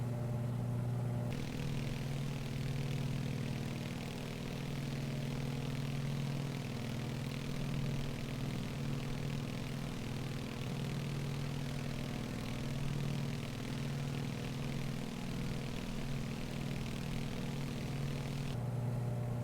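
Steady twin piston-engine drone of a Beech Model 18 climbing out in a flight simulator, a continuous low hum with a faint propeller beat, constant and unbroken throughout with no talk.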